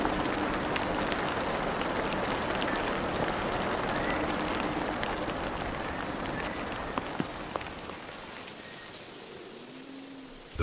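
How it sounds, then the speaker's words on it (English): Steady rain pours over Christmas Island, a dense continuous hiss of drops on ground and foliage with a few sharper splats, holding evenly throughout and easing slightly near the end. "The rain softens the soil and revives the land."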